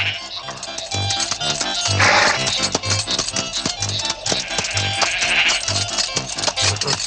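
A flock of sheep bleats repeatedly in a French animated series, with several overlapping cries over a busy musical soundtrack and no speech.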